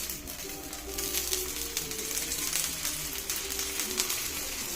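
Spicy karadai frying in oil on a stone griddle: a steady, close, even sizzle that holds for several seconds, with faint clinks of utensils and no talking.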